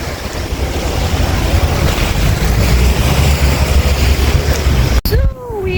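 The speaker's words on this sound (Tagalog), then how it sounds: "Yung alon." Ocean surf washes loudly and continuously with wind buffeting the microphone, then cuts abruptly near the end.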